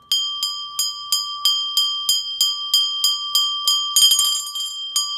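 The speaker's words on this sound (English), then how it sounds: "For the whole time, you will just be only one bell, only one ting ting ting ting." A hand bell for Maha Aarti rings in a steady, evenly spaced beat of about ten single clear strikes, ending in a quick jangling shake that stops the ringing.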